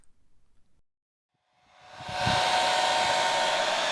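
After a short quiet moment with faint noise, a hair dryer starts up to heat poured resin on a model railway, ramping quickly to a loud, steady whooshing roar.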